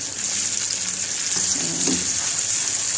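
A tomato dish fries in a pan with a bright, constant sizzling hiss, while a spoon stirs it with a few soft scraping movements partway through. The sound is close and steady.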